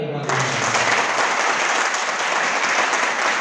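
Loud, dense applause erupts from a seminar audience at a motivational training session, cutting in after a brief moment of talk and continuing as a strong, steady roar of clapping.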